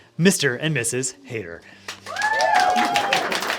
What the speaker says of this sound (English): we'll keep clapping because we're super excited